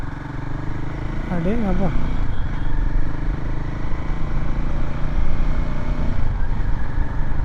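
A Royal Enfield Himalayan 450 motorcycle engine runs with a steady, rough drone and wind rush while riding, close and loud throughout, as someone speaks briefly over it.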